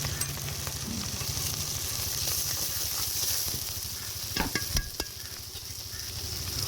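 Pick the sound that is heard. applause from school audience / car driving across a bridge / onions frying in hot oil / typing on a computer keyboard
onions frying in hot oil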